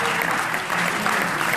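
Live show audience breaks into dense, steady applause for a participant named Jean-Henri, a brief unbroken burst of many hands clapping at close range.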